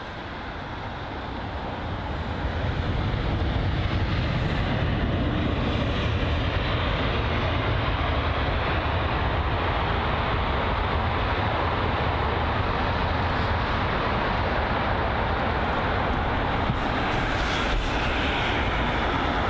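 An Aer Lingus Airbus A320neo at Heathrow makes a loud, sustained jet roar that swells over the first couple of seconds and then holds a dense, broadband rumble steadily to the end, with no talking.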